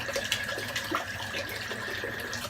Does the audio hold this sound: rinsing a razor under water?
yes